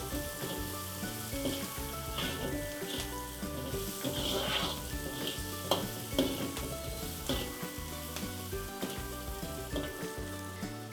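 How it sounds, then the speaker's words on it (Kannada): Ingredients for Singapore paneer noodles fry in a pan with a continuous close sizzle and occasional stirring scrapes, all playing under steady background music. "ಒಂದು 2 ಮಿನಿಟ್ಸ್ ಚೆನ್ನಾಗಿ ಫ್ರೈ ಮಾಡ್ಕೊಳ್ಳಿ"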